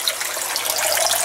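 Water drains from a hose into a fish tank in an unpowered aquaponic garden, giving a steady, close rush and splash with no pauses.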